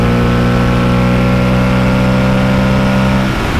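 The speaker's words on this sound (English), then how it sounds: "if I roll on the throttle, stay in 6th gear, see how quickly this speedo climbs" Aprilia Tuareg 660 motorcycle engine pulling hard in sixth gear, a loud, steady drone with rising tone under wind noise, close to the rider throughout.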